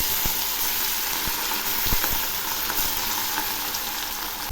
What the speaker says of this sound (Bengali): এবার আমি অল্প অল্প করে মাছগুলো ভেজে নিচ্ছি।